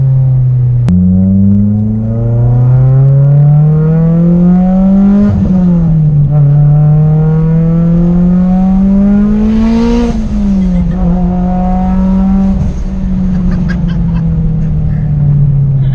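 A Mitsubishi Evo on a dyno revs hard in loud, rising sweeps that dip briefly and climb again several times, with no talking over it.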